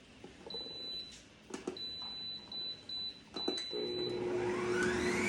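An electric mixer set for flour batter gives a string of short electronic beeps as it is set, then its motor whirs up, rising steadily in pitch, close and moderately loud with no talking.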